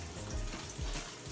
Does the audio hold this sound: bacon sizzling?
yes